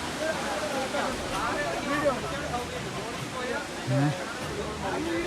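A steady broadband rush of water from a waterfall in Kerala, continuous and moderately loud throughout, with faint voices in the background.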